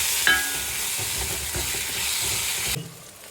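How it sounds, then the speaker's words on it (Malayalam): Chopped tomatoes stirred in a hot pan, a steady wet sizzle with a scrape near the start, continuing evenly before dropping off sharply near the end. "ഇനി നമ്മൾ അരിഞ്ഞു വെച്ച തക്കാളി അത് നമുക്ക് നല്ലപോലെ ഇളക്കി മിക്സ് ചെയ്ത് യോജിപ്പിച്ച് കൊടുക്കാം"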